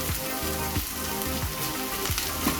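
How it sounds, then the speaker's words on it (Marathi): Spring onion cooks over a high flame in a pan, giving a dense, close, continuous sizzle with faint crackles and no talking. "हा आपला पातीचा कांदा पण शिजत आलेला आहे।"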